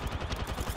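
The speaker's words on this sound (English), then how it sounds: "I'm taking shots." Rapid video game gunfire in a squad shooter, a dense string of close, loud shots repeating in quick rhythm with no gaps.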